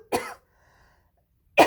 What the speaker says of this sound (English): You just have to deal with my coughing and my gunk.